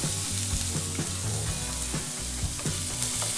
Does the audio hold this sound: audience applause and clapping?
no